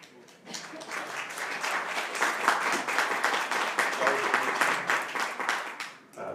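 A room in a state House Education Committee hearing breaks into applause, steady crowd clapping that swells and holds for several seconds, with voices mixed into it.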